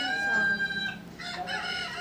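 A rooster crows loudly and close by, one long drawn-out call followed by a second shorter burst, with a few faint clucks, set against a quiet background.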